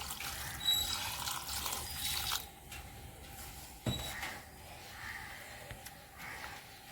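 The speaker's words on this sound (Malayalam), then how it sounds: "ഇതിലേക്ക് നമുക്ക് കുറച്ച് വെള്ളം ഒഴിച്ചു കൊടുക്കാം" Water poured into a cooking pot of clam meat on a stove, a steady trickling splash running for several seconds with small bursts, close and moderately quiet, no voices.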